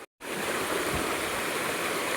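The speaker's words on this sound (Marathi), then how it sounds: "इथं एक छोटा वॉटरफॉल आहे, त्याच्यावरती अजून एक छोटा वॉटरफॉल आहे" A small waterfall pours steadily with a dense, continuous rushing of water, close and loud after a brief silent gap at the start.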